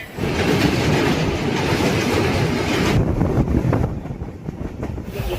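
The Puri to Sealdah Duronto Express runs at speed, heard from inside as a loud, continuous rumble with rattling carriage noise and wind buffeting, easing slightly near the end, with no voices.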